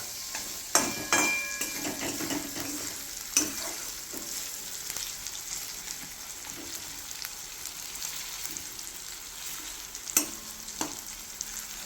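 A spice mixture frying in a pan as the base for a Bengali fish curry: a steady, close sizzle that runs throughout, broken by a few sharp clinks and stirring knocks, with no voices.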